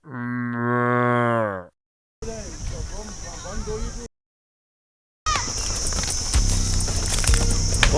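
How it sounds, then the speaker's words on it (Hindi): Buffaloes at a village home give a loud, close, drawn-out moo at the start, followed by abrupt cuts into noisier outdoor stretches with people talking. "यही उसका घर है और ये उसकी भैंसे हैं।"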